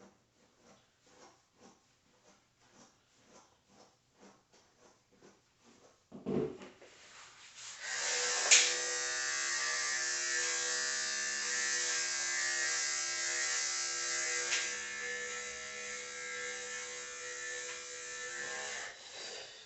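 Electric clippers trimming a dog's back-brushed coat during a full grooming service: soft rhythmic brushing strokes first, then the clipper switches on with a steady, close, high-pitched buzz that runs to the end.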